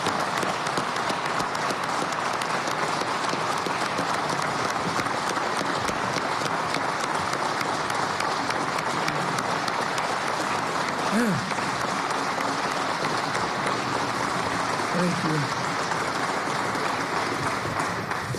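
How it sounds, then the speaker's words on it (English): Audience at a Syracuse University basketball coach introduction applauds Coach Jim Boeheim, a continuous loud wash of crowd clapping that holds steady for about eighteen seconds with a few faint voices beneath. "please join me in a round of applause for Coach Jim Boeheim"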